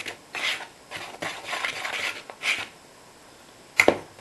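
A whisk quickly mixes the dry waffle ingredients, including baking powder, in a bowl: a series of short, close scraping swishes, then a couple of sharp taps at the end.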